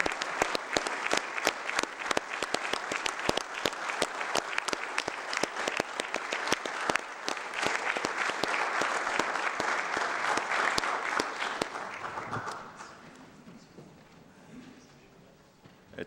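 A commission meeting audience applauds to approve a motion, steady dense clapping for about twelve seconds that then fades to a quiet room.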